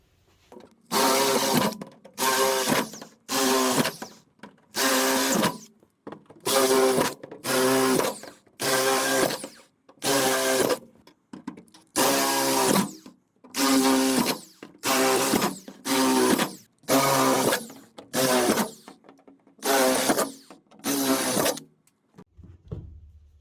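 Power drill enlarging bolt holes in a Harbor Freight cart for mounting casters, heard as roughly fifteen short, loud bursts of whining drilling separated by brief pauses, close and with no talk.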